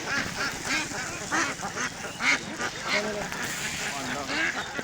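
Ducks on a duck farm quack in a busy, overlapping chorus of repeated calls, close and moderately loud, while people talk over the flock.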